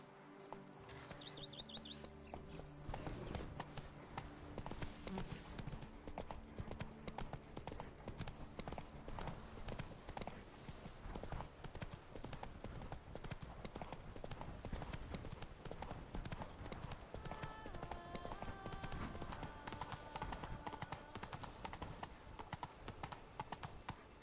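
Roach, Geralt's horse in The Witcher 3: Blood and Wine, gallops with rapid, rhythmic hoof clip-clops that continue steadily and fairly close, over light birdsong and game music.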